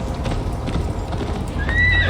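Horse hooves clip-clop at a rapid gallop in the video game Assassin's Creed Valhalla, close and steady, with a whinny rising near the end.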